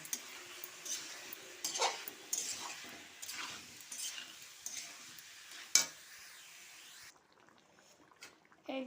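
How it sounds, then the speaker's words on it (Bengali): Boiled elephant foot yam and potato being sautéed in a pan for a rui fish curry, with repeated scraping stirs over a steady sizzle and a sharp utensil clink near the end before it quiets. "সেটাও আমি দিয়ে দিচ্ছি। দিয়ে এটা আবার ভালো করে কষিয়ে নেব"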